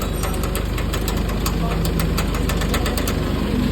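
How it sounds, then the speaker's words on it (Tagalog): An engine knocks loudly at idle, a rapid, steady metallic tapping over a constant rumble that runs the whole time, close up, with no talking. "meron daw malakas na lumalagotok"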